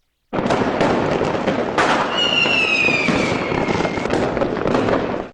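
A fireworks sound effect for a Red Fire sponsor spot bursts in abruptly: dense crackling and popping with a whistling rocket streak through the middle, loud and continuous until a sudden stop.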